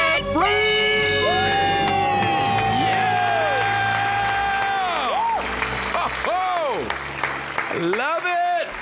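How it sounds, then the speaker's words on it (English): Crowd screams and cheers together after a countdown, a loud sustained burst of voices and applause with shrill whoops rising and falling over several seconds. "Let's hear a debt-free scream."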